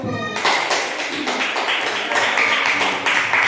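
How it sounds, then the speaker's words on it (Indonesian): A group of people in a classroom break into applause for group 1, a dense burst of steady clapping that carries on at a fairly loud level throughout. "Berikan aplaus kepada kelompok 1."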